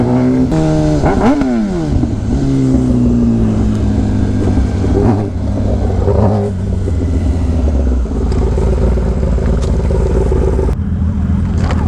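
Superbikes such as a Kawasaki ZX10R and a Suzuki Hayabusa ridden on a highway during a wheelie, with loud, close engine drone that climbs and falls in pitch across several gear changes and holds steady.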